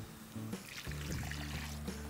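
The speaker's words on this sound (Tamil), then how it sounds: "அந்த மசாலா பேஸ்ட்டை கொட்டுங்க" Ground masala paste poured from a mixer jar into a biryani pot: a quiet, brief wet pouring and dribbling sound lasting about two seconds, with no talking.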